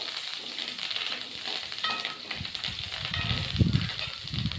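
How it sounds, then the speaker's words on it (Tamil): Beetroot and curry leaves sauté in a pan, a soft sizzle under light stirring scrapes that grow a little louder toward the end, with no speech. "நல்லா வதக்கி விடுங்க."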